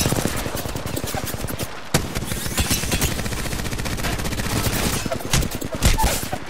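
Dense, rapid video-game gunfire fills the whole stretch: a loud, sustained fusillade of automatic bursts with a sharp break near two seconds, then continuous rattling volleys to the end.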